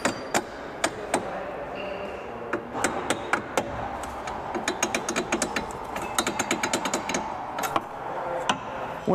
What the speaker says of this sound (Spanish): simplemente dándole unos golpes con un martillo aquí bastante fuerte